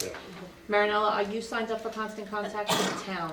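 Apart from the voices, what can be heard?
sneeze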